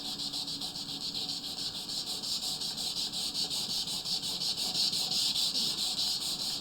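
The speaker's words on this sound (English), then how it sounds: "as I do the last bit of sanding here" Steady, close rubbing hiss of sandpaper worked over the wooden body of a SpellCaster guitar build during the final sanding before varnish, continuous and fairly loud with no voices.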